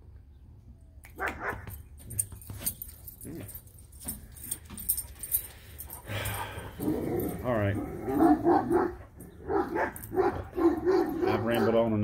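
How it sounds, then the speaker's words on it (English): Dogs bark and yip in short bursts, with jangling keys and a person talking over them indoors. "they're gonna start barking, making noise"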